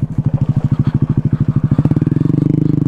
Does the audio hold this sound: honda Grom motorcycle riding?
yes